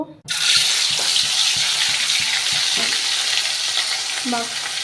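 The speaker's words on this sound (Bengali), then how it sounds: "মাছটাকে লাল লাল করে ভেজে নেব।" Salt-and-turmeric-rubbed shol fish hits hot oil with a sudden loud sizzle that roars up at once and keeps crackling steadily and close for the rest of the moment.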